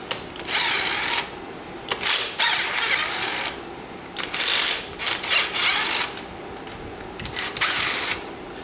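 Bolts come off a Banshee engine case in bursts of rapid ratcheting, several whirring spells of a driver tool separated by short pauses, close up with no talking.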